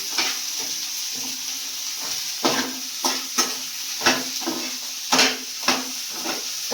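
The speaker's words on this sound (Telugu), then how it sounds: "కొద్దిగా ఏగనివ్వాలి ఉల్లిపాయలు" Sliced onions frying over a low flame in a pan for a jaggery onion chutney, a steady hiss broken by several sharp sizzling bursts and scraping stirs, close and alone without talk.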